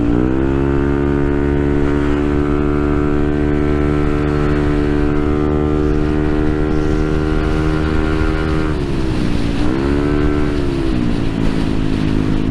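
Yamaha NMAX V2 scooter engine fitted with bolt-on CRP cams runs at a steady idle, a loud continuous hum that dips briefly in pitch twice near the end before settling back.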